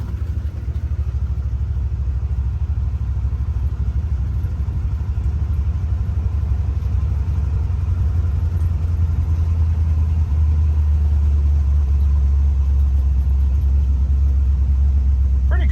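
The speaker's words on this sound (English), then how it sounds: "Back on the road. Is it gonna shift? There it went. Shifted into second." A salvage-yard Dodge Charger fitted with a salvage-yard transmission drives along the road, its engine a steady, loud low drone that shifts in tone as it changes into second gear.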